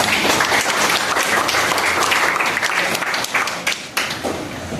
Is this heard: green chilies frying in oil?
no